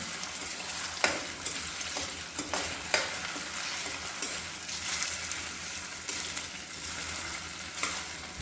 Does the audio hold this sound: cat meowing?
no